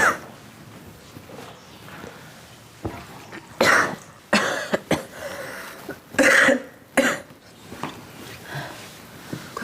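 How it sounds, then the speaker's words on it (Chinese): Repeated coughing from a young person in a home setting, several loud, harsh bursts with breathy throat-clearing between them, close and clear against quiet room tone, with no talk over it. "你这怎么又咳嗽了？"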